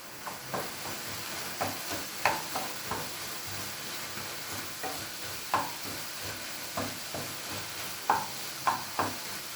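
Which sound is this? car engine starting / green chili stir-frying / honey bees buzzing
green chili stir-frying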